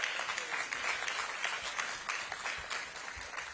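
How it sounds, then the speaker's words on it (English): An audience claps steadily at a DC mayor's career program announcement, a dense, even wash of hands lasting the whole moment with no voices over it. "Clap for that."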